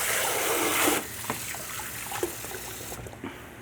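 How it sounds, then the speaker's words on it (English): Tap water running into a sink while hands are washed after handling raw meat, a strong gush that drops to a trickle with splashes and clinks, then shuts off, close. "I will take a second just to wash my hands here after handling the raw meat"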